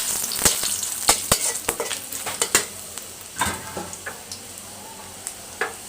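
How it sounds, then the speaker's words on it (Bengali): Garlic sizzles and spatters in hot oil as dal is tempered, a steady fry hiss broken by sharp crackling pops and stirring clinks, loud and close with no talk. "ডালটা শুধু রসুন দিয়ে বাগার দিব"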